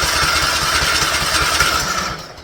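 Small engine running after a fuel filter and carburetor line replacement, a steady rapid putter close by, fading out at the end.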